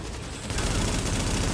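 Gunfire in the video game Tom Clancy's The Division, a dense burst of rapid shots that grows louder after a short lead-in and stays loud to the end.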